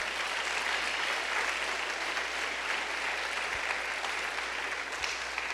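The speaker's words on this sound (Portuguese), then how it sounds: "Você pode aplaudir de novo o Senhor" A church congregation applauds steadily in a broad, even wash of clapping that holds at a constant level throughout, with no speech over it.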